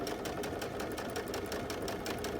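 A sewing machine stitches a quilt block under foot-pedal control, producing a steady, fast mechanical whirring and tapping at an even pace, close and continuous, with no talking.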